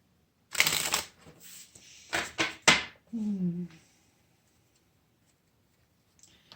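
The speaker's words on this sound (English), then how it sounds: "I'm just going to shuffle these cards to get them fresh" Quick riffling bursts of a card deck being shuffled, two rounds close up, followed by a brief murmur of a voice, then quiet.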